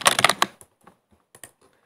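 A fast run of computer keyboard keystrokes, followed by a few scattered, fainter clicks that trail off into quiet. The typing is close and clear, with no talk over it.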